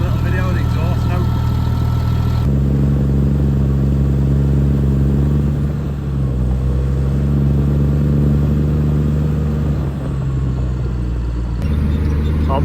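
Tractor engine running steadily up close at its exhaust, a deep continuous idle rumble with strong low harmonics that shifts pitch slightly partway through, with faint speech in the background.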